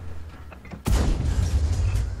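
Tank cannon fire in World of Tanks from the Objekt 416, with a single heavy, booming shot bursting out after quieter engine rumble, then a lingering low rumble.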